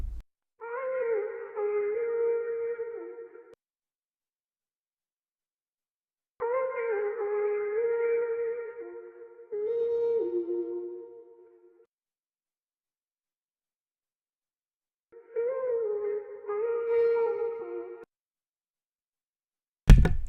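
Chopped music sample, pitched up and cut into short pieces in FL Studio for a trap beat, plays as four tonal bursts of a few seconds each with near-silent gaps between them, ending in a sharp click.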